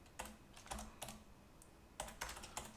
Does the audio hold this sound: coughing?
no